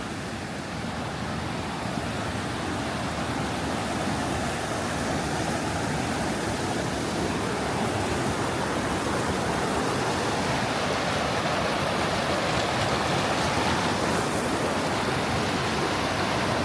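A cascade waterfall on Blue Lake Trail in Colorado roars in a dense, steady rush of falling water. It stays loud and unbroken throughout, with no voices.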